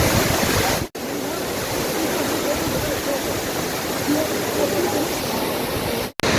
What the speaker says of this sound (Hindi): ये वाटरफॉल है और ये वो ब्रिज है जी